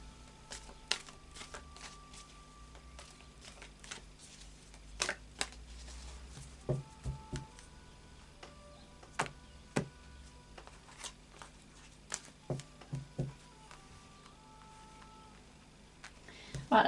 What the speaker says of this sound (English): I have swirled the energy cards before starting the reading